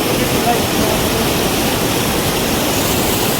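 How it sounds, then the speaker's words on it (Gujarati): Water from an overflowing village lake rushes and gushes in a loud, steady wash of noise with no break. "એટલું ખળખળ પાણી બોલે છે"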